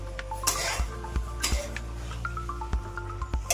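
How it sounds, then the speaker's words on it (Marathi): Pasta being stirred in a pan with a utensil, giving soft scraping and occasional light metallic clinks of utensil against pan at an irregular, unhurried pace, close by and fairly quiet, with no talking. "बघू शकता असं व्यवस्थितपणे हळूहळू मिक्स करायचं."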